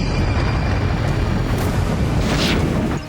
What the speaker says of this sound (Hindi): रेजान ऑयल रिफाइनरी में फिर ड्रोन से धमाका हुआ है